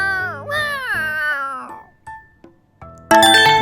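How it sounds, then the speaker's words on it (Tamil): A cat meows loudly up close, one long descending cry followed by short chirps, then a bright chiming tone at the end. "பூனை"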